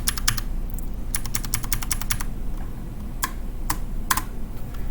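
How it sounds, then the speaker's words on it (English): Keys clatter on a computer keyboard in quick bursts of close, crisp clicks, with a few isolated keystrokes afterward over a low background hum. "I'll just type the first letter of a command and hit tab"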